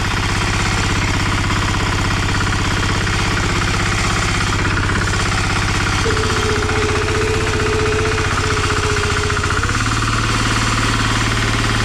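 A walk-behind tractor engine runs loud and close without pause while uprooting raspberry bushes, a steady rumbling drone with rapid mechanical knocking whose pitch and load shift partway through; no speech.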